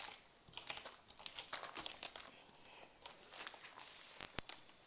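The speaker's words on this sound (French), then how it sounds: "je replace le papier pour que ma toile elle reste bien à plat" A sheet of paper is laid back over a diamond painting canvas to keep it flat, giving quiet close-up crinkling and rustling in short bursts, with one sharp crackle near the end.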